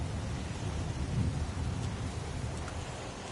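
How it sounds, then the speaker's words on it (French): Heavy downpour in the video game Heavy Rain, a steady dense hiss of rain with low rumbling underneath, continuous and fairly close throughout. "Il pleut des cordes."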